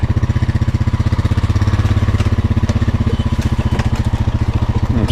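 A four-wheeler ATV engine running with power steering, a loud, close, steady rapid thumping putter that pulses evenly throughout without pause.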